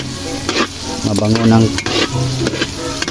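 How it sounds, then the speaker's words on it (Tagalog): Beef skin balbacua fries with garlic and onion in a pan, loud close sizzling punctuated by repeated scraping stirs of a spatula, with brief background noise between strokes. "So halo-haluin lang natin mga kapinoy para maging malasa yung balbacoa natin"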